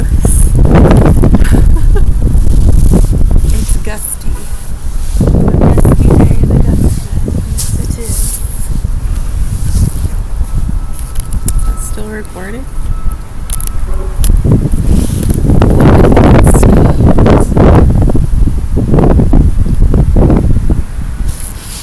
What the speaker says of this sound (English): It's gusty.